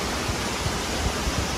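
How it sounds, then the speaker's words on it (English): Potom Falls waterfall roars as a steady, dense, broadband rush of falling water, loud and continuous throughout, heard alone with no voices. "Alright, look at the waterfall."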